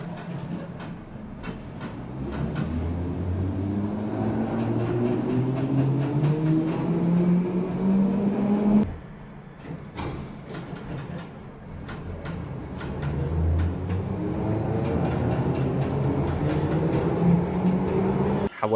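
A 1972 stock train on the Bakerloo line with resistor-controlled DC motors gives a loud, close whine that rises steadily in pitch, drops off briefly, then climbs again over rumbling running noise.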